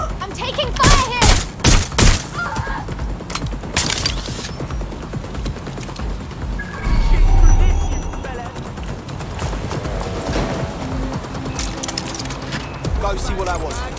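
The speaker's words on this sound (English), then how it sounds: "I'm getting shot here." Bursts of gunfire in the video game Watch Dogs Legion, several rapid volleys early on, then continuing shots amid mechanical game effects and a dense soundtrack, with a voice talking throughout.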